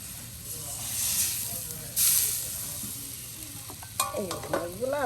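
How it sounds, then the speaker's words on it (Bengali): Tilapia frying in hot oil with cumin and garlic, a steady close sizzle and hiss with stirring scrapes, while a voice talks faintly over the last second or so. "সেই ভেজে নেওয়া জিরা রসুনে মাছগুলো দিয়ে দেওয়া হলো তেলে"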